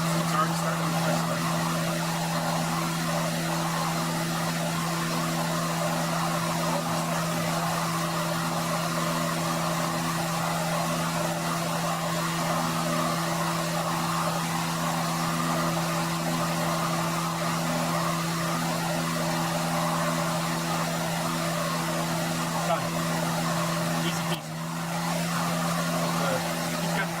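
Heat gun blowing hot air onto a briar pipe bowl, a steady loud whirring hum with a constant fan tone held for nearly half a minute, briefly dipping once near the end.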